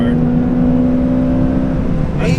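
A 2ZZ-swapped Toyota MR2 Spyder with a 5-speed, its engine holding a loud, steady high-rev whine with a faint breathy sound at the very end.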